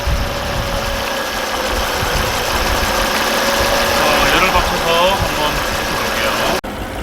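A Volvo C30 engine, hot after repair work, idles steadily up close, a continuous low, rough rumble that cuts out briefly near the end.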